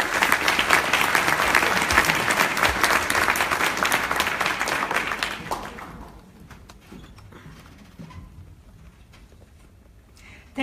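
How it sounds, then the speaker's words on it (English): Applause at a world congress awards ceremony for winners, jurors and administrators: a dense crowd of hands clapping loudly and steadily, then thinning out to scattered claps and quieting toward the end. "A round of applause for all our winners, all our jurors, and all our administrators."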